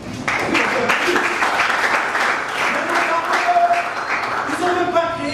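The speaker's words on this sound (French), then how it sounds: "on peut applaudir" An audience breaks into applause, a dense burst of clapping with some voices mixed in over about five seconds.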